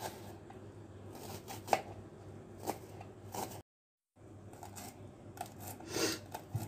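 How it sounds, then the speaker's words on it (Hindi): Knife finely chopping a medium-sized onion for Afghani-style palak paratha (bolani), a run of close, quick irregular cuts on a board, broken by a brief silent gap midway, with no talking. "प्याज हम इस तरह से बारीक बारीक प्याज कट कर देंगे उसकी"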